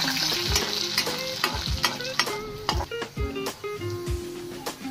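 Finely chopped onion with a few curry leaves sizzles and crackles steadily in hot oil, with a spoon or spatula stirring and scraping the pan at close range in repeated strokes. No talking.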